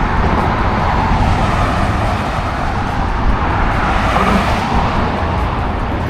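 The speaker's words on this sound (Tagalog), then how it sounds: "Ang bibilis ng sasakyan, no?" Cars speed past on a busy road near the Golden Gate in San Francisco, a loud continuous roadway roar with tire and engine noise surging as vehicles go by.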